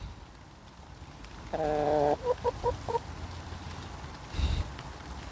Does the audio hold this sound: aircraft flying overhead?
no